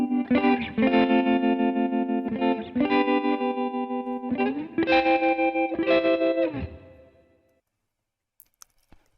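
An electric guitar plays a busy, effected riff of rhythmic chopped chords in several bursts, then rings out and fades to near silence.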